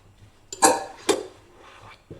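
A spoon stirs fruit and oat bar ingredients with cinnamon in a bowl, giving a couple of sharp, close clinks against the bowl amid soft scraping.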